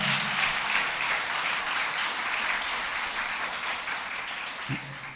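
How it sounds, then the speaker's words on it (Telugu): Sustained applause from a church congregation during a sermon, a dense, steady wash of clapping that stays loud throughout and eases slightly near the end. "చప్పట్లు కొట్టరేటి, గట్టి కొట్టి చప్పట్లు కూడా"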